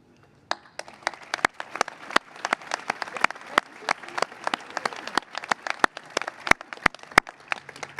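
An outdoor audience at a Memorial Day ceremony in Mission Viejo claps in sparse, distinct individual claps, fairly light and irregular, with a faint murmur of voices underneath.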